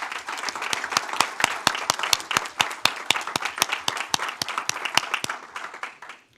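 A round of applause from the audience at a state board of education meeting, dense steady clapping from many hands that fades out at the end.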